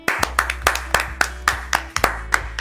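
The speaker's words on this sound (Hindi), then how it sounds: "उसके लिए जोरदार तालियां" Claps ring out in a steady rhythm, about ten sharp hand claps close to the microphone, for a poet at a poetry gathering, with a low hum underneath.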